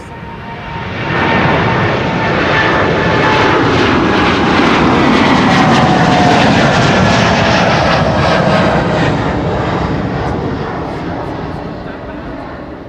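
A TUI airliner bound for Willemstad takes off from runway 24 at Amsterdam Schiphol with a loud, broad jet roar that swells, holds steady and slowly fades.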